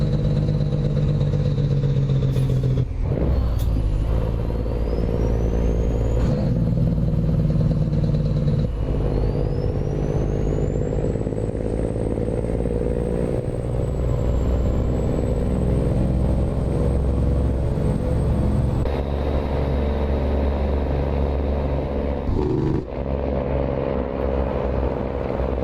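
A heavy truck engine in American Truck Simulator drones loud and continuous with deep rumbling harmonics, rising and dropping through gear changes, with a faint whistle sweeping over it.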